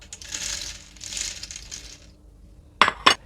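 Empty gelatin capsules are poured into the tray of a home capsule-filling machine, giving a steady hiss of light shells sliding and rattling, followed by two sharp plastic clacks near the end.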